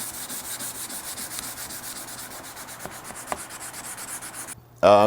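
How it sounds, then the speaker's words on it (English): A wooden guitar neck is hand-sanded with steady, continuous rubbing strokes that stay close and fairly soft, ending in a brief louder clatter. "let's sand on this thing for a minute"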